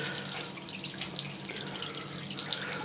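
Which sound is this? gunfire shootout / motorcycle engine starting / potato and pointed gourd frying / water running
water running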